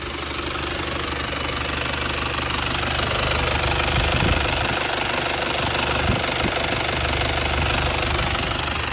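Isuzu TFR pickup truck engine idling steadily nearby, a continuous low knocking diesel-like rumble with even vibration throughout and no speech.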